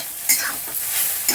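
Khesari greens, lightly sweetened, are stirred in a hot frying pan, giving a short burst of scraping and soft sizzling with a couple of sharper spatula strokes.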